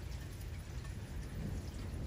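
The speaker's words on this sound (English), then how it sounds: "It's raining." Steady rain falls outside a family home, a constant broadband hiss of drops with low rumbling undertones, moderately loud and continuous with no talking.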